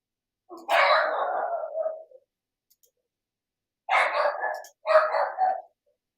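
Indoor dogs barking in bursts, one long volley followed by a pause and then two shorter barks, fairly close and without talk.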